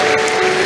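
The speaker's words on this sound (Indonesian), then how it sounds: "Tepuk tangan buat Tuhan Yesus" Applause from the congregation at a Christmas worship service held by the Papua regional police, a brief dense burst of many hands clapping in a large room.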